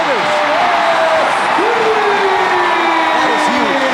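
Loud crowd at a basketball game roaring and whooping in a continuous swell, with rising shouts and whistles layered over the steady din.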